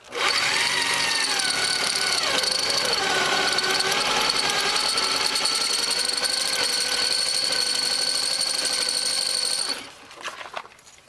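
A power tool whines loudly and steadily as it drives large screws into pilot holes on the shock bracket of a 2007 Ford Escape, running almost continuously before stopping near the end with a few short bursts.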